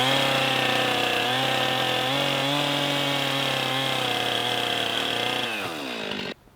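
A power saw trims the legs of an ash-wood tripod stand for a 64 sq ft micro house on stilts, a loud steady whine running without pause for about six seconds before cutting off.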